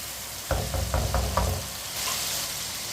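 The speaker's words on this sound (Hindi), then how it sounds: "सब्ज मिर्च को भी 1 मिनट के लिए पका लेंगे।" Green chilies frying in a pan for a tinda curry, a steady close sizzle with a quick run of five knocking spoon strokes against the pan early on.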